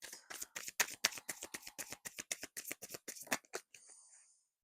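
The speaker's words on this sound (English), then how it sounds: "I've got to put it back because I've not finished shuffling." Tarot cards being shuffled by hand in a run of quick, crisp riffling bursts, about twenty in steady rhythm, close and moderately loud, ending in a brief soft rustle.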